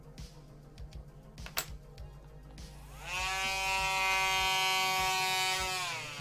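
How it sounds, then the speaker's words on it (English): A small pocket Dremel rotary tool spins up after a few faint clicks and taps, then holds a steady, fairly loud high whine with no talk. "Maybe a little pocket Dremel?"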